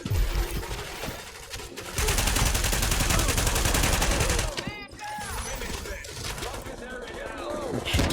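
Sustained automatic gunfire from The Division, a dense roaring fusillade near and loud, easing briefly before more shooting and whistling ricochet-like tones, with speech over parts of it.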